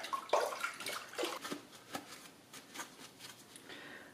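A small metal door lock part for a 1976 Mazda RX-5 Cosmo is dipped into water, giving a few soft splashes and sloshing bursts followed by lighter intermittent trickles, close and fairly quiet.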